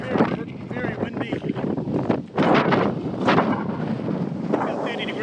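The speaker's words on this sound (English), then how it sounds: "Very windy." Strong wind buffets the microphone during a long-distance push-bike ride, a loud, continuous rushing roar with gusty surges that dips briefly midway, with no talk over it.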